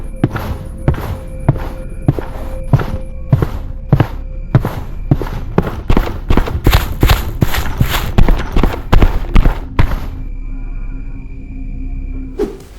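Footsteps in a horror video game: a run of sharp, evenly spaced thuds that speed up and tighten toward the middle, then stop, leaving a thin steady tone ringing alone.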